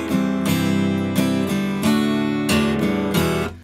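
An acoustic guitar strums the four-stroke 'chetvyorka' pattern, full chords in a steady rhythmic cycle with clear chord changes, played close and alone.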